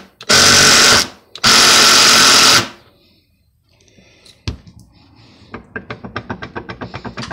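A cheap Chinese-made impact gun runs in two loud sustained bursts, then gives way to a quieter stretch with a sharp knock and a fast train of rattling impact hits, close up with no talking.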